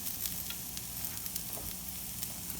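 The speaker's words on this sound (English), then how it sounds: "So we're toasting the onions and the garlic right now." Onions and garlic toast in a hot pan for salsa verde, giving a steady close sizzle with small crackles and pops throughout, with no one speaking.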